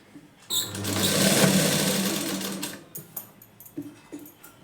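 A sewing machine stitches the back piece of a blouse in one sustained run of steady mechanical whirring, followed by a few short clicks and bursts, close and moderately loud.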